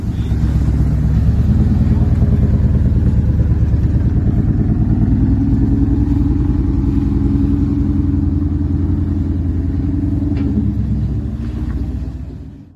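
A Chevy K30 crew cab dually with a 454 engine, just fitted with a four-speed manual swap, runs with a loud, steady, deep rumble close by for about twelve seconds before easing off.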